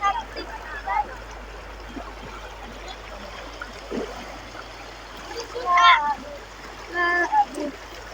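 Floodwater flows over a rural house entrance road after five straight days of rain, a steady broad rush with occasional splashes running throughout while people talk over it.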